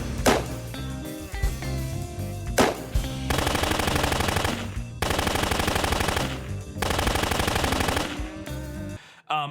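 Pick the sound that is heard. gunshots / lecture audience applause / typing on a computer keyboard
gunshots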